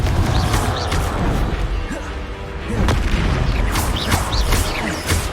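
Confringo blasting spell explosions in Hogwarts Legacy, loud booming bursts over a dense rumbling game soundscape with crashes and pops continuing throughout.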